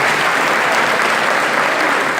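Dense, steady applause from a church audience at a regional gathering of Catholic Charismatic Renewal prayer group coordinators fills the space loudly and without a break.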